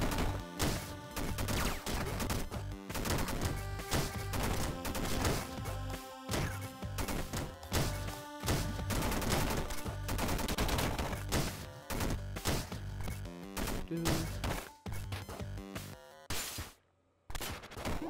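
Rapid gunfire and crashing explosions from the video game Downwell, loud and nearly continuous, with dense bursts of shots and smashes throughout and a brief silent gap near the end.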